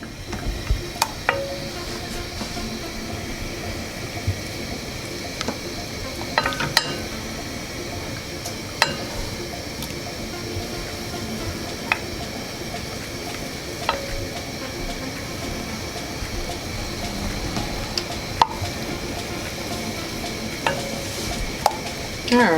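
Half a stick of butter softening in a pot over a medium flame, giving a quiet steady sizzle with occasional sharp clinks and taps of a utensil against the pot, close and continuous without speech.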